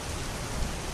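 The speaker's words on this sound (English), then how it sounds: "Rain lashed against the windows, and the wind howled through the halls." A stormy night brings rain lashing against windows in a dense, unbroken hiss of heavy downpour with a low rumbling undertone.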